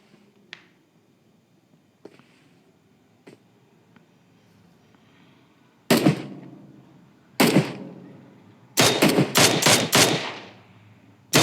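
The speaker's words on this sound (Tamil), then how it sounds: "ஆர்ஜி ஸ்ட்ரோக் மினி 14ல் அடிச்சுட்டு இருக்காங்க." Mini 14 rifle fire in a video game: a few faint distant clicks, then loud close single shots followed by a rapid cluster of sharp reports.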